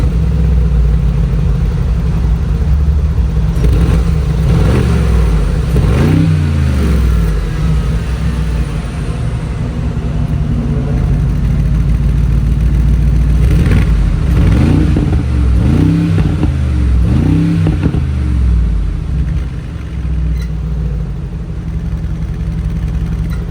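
A Mercedes G63 with an FI axle-back exhaust rumbles loudly at idle, its engine rising and falling through a series of rev blips, some single and some in quick pairs, heard up close without talk.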